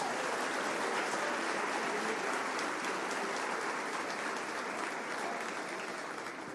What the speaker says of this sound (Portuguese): Se você puder, dê uma salva de palmas ao nosso Deus.